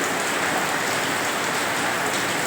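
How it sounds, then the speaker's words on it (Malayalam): Heavy rain pours down steadily on a hard surface, a dense, constant loud hiss with no voices. "ഇവിടെ പൊരിഞ്ഞ മഴയാണ്"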